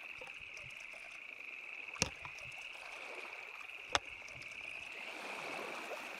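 Water bottle being filled at a stream in the video game Scum, a faint continuous trickle and gurgle of running water with two brief sharp knocks, no talking.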